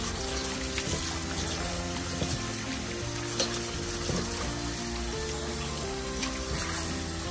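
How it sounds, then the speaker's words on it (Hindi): Goat liver being rinsed under an open running tap in a home kitchen, a steady rushing splash of water with faint clatter, continuous and close, with no talk. "अब इसको मैं वॉश कर दूँ अच्छे से खुले पानी में।"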